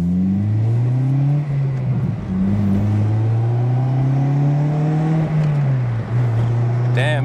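Manual Acura car pulling away under hard acceleration, its engine note rising and dipping through gear changes, loud and close throughout with a brief chirp near the end.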